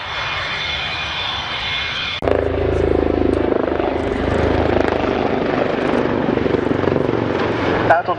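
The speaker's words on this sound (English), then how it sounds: "I'd like to introduce you to the 2016 Royal Navy Helicopter Display Team, also known as the Black Cat" Royal Navy Black Cat helicopter display team flying at the 2016 Yeovilton airshow, a loud, steady rotor and engine roar that swells abruptly after a quieter high whine, with a commentator talking over it.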